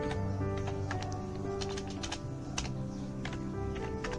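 Computer keyboard keys tapped in a quick, uneven burst while a network switch command is entered at a command-line prompt, close and clear over steady background hum.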